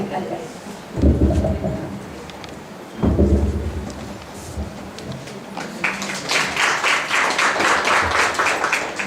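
Audience applause at a Marathi talk event welcoming a guest speaker: two short bursts, then sustained, dense clapping that builds and carries through the end, mixed with talking.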